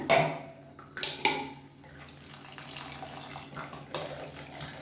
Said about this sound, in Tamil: இப்போ மிக்சியில் அலசிட்டு தண்ணி சேர்த்துக்கலாம்.